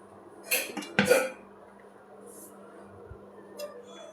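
A lid set onto a pot of cooking rava khichdi: two quick metallic clinks and clatters close together, then a quiet background with a faint later tap.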